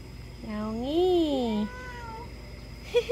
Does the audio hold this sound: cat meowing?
yes